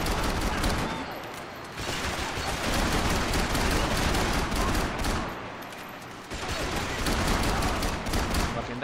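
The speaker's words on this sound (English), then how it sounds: "This dude's just dancing around with bullets bouncing off of him." Gunfire in the video game Max Payne 3: dense, continuous rapid shots and bursts that fill the whole stretch at steady loudness, easing briefly twice before resuming.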